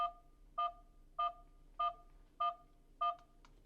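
A Bikonek baby monitor's low-temperature alert beeps steadily, six short two-tone electronic chirps spaced about half a second apart, clear and close over a quiet background.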